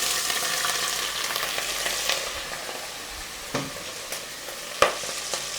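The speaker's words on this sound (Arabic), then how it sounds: "ده بقى الجمبري اللي شيمو نضفته، هنزل في الزيت" Shrimp hits hot oil in a pan and fries with a steady crackling sizzle, close and moderately loud, with a few sharper pops and stirring knocks toward the end.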